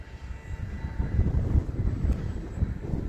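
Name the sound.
E-flite Commander MPD RC plane flying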